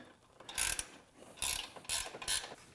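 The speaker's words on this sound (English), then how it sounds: "Grab a 16 millimeter wrench and we'll lock this guy down." A 16 mm wrench ratchets bumper bolts tight on an Ironman 4x4 Raid full-length front bumper for a Jeep Wrangler JL Unlimited, giving four separate bursts of close metallic clicking with short pauses between.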